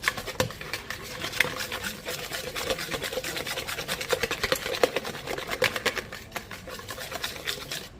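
Egg noodle dough is mixed by hand in a bowl, producing a fast, steady run of scraping, rubbing strokes, close and continuous with no talk.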